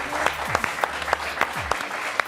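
A studio audience applauds to welcome a newcomer to a French football TV talk show panel, a short burst of clapping with a few sharper claps standing out, fairly close and steady throughout.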